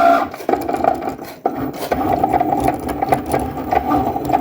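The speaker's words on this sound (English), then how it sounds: "So we're just going to let the machine cut for a few minutes" A Cricut machine cuts a vinyl design for a DIY T-shirt with a close, steady mechanical buzz. The blade carriage sweeps back and forth in short repeated bursts, with brief pauses between moves.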